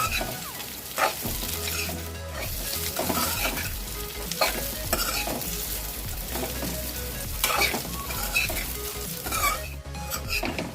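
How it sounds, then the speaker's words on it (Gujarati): Fenugreek muthiya dumplings frying in a hot pan of tempering with steady sizzling, broken up by stirring and the scrape and clink of a spoon against the pan. "તો હવે આ મુઠિયા ફ્રાય થઈ ગયા છે"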